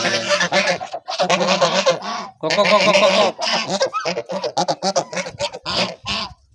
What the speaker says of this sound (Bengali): রাজহাঁসগুলো ঘাস খাচ্ছে